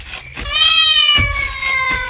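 A cat meows twice, loud and close, as a sound effect in an Ilocano radio comedy drama: a long drawn-out meow followed by a shorter second one.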